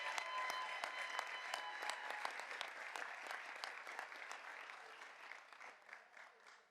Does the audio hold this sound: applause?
yes